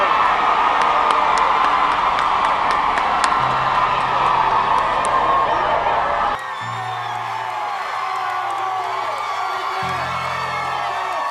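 A large crowd gathered outside a courthouse cheers, whoops and shouts continuously, a dense roar with scattered yells and a lower chant-like hum.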